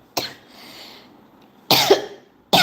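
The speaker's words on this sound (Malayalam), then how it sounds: "ഈ മെനകെട്ട ചുമയാണ് സഹിക്കാൻ പറ്റില്ലാത്ത." Three sharp, harsh coughs from a nearby woman suffering a persistent cough, one short burst followed by two louder ones after a pause.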